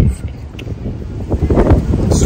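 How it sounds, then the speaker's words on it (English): Gusty wind buffets the microphone with low rumbling bursts that swell and fade, while voices talk over it, on the Chimney Top hike in West Virginia. "It's too windy!"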